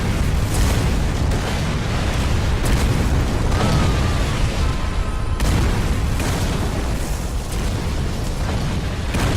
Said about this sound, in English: there might be some very noticeable explosions